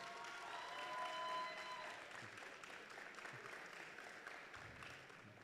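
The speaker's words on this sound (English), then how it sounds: "So let's give them a round of applause." Crowd applause for both teams after a bronze medal match between Franco-Cite and the Banting Broncos, a faint, distant wash of clapping that swells briefly early on, then settles into a steady hum.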